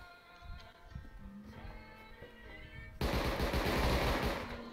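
Quiet game ambience with faint tones gives way to a sudden loud burst of turret gunfire, dense and sustained, in a video game fight at an iceberg base.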